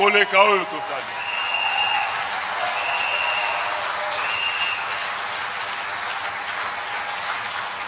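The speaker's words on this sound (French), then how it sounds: "Il mérite plus que ça comme acclamation" A church congregation applauds steadily after a brief voice at the start, the clapping broad and sustained without distinct cheers standing out.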